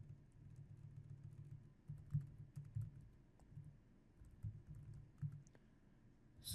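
Text typed on a computer keyboard, with soft, faint key clicks in quick irregular runs over a low background hum.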